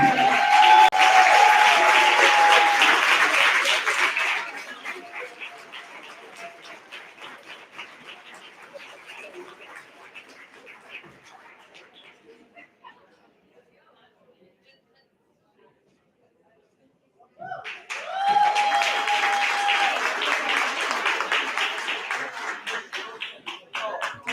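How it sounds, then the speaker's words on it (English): Audience applause breaks out at a community baby event, loud and dense at first, fading to scattered claps and near silence, then a second strong burst of clapping returns. "I want a big round of applause for Buffalo."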